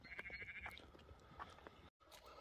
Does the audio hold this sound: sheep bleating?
yes